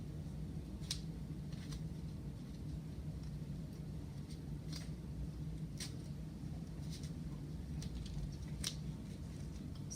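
Medical tape is cut into pieces to secure a nasogastric tube, with a series of crisp, close snips spaced irregularly over steady background noise.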